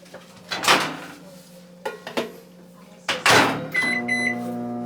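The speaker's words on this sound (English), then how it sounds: "Throw this in the microwave." Clunks of a microwave door opening and closing, a few button beeps, then a steady hum as the oven starts running.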